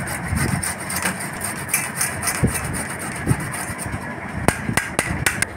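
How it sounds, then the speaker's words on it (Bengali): Fresh ginger rubbed against a hand grater in a home kitchen, giving a steady rasping scrape with repeated strokes and a few sharp knocks, close and fairly loud with no talking. "আদা ঘষে নিচ্ছি"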